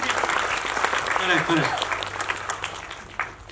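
Audience applause at the Gondhal movie trailer launch: a steady wash of clapping from a seated crowd across the whole stretch, with a voice audible over it.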